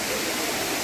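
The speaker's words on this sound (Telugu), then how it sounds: "ఒక 200 అడుగుల హైట్ నుంచి దూకుతున్నట్టున్నాయి వాటరు" The Talakona waterfall near Tirupati pours down from about 200 feet, heard as a steady, loud wash of rushing water with no break across the brief moment.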